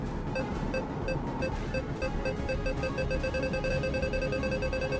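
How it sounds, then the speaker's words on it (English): Rapid, regular electronic beeping from a radar device in the game VirtuaVerse, repeating evenly over a steady low background hum, with no speech. "the radar is beeping very fast here"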